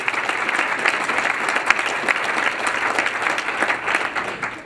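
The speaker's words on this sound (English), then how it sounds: "give him a applause" A crowd at a Boston Marathon training clinic claps for a runner, a dense, sustained round of applause at steady loudness with no talking over it.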